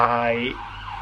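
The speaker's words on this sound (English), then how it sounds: "sorry about the siren." An emergency siren passing outside sounds as a wailing tone that slides downward and fades in the background, moderately loud.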